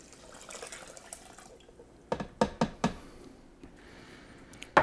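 Four cups of water are poured into a cooking pot for sautéed pork chops: a brief splashing rush at first, then a few sharp drips and knocks against the pot, with no talking.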